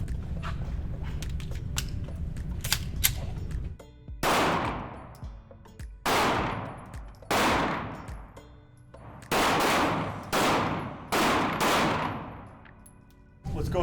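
Ten pistol shots fired at a 15-yard target during defensive handgun training, loud sharp cracks spaced roughly evenly with ringing decay, after a stretch of quieter background murmur.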